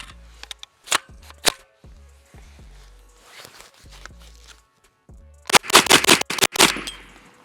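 Stribog pistol firing CCI Blazer 115 ammunition, a run of sharp, loud gunshots: scattered single shots early on, then a rapid cluster of five or six shots near the end, with quieter clatter between.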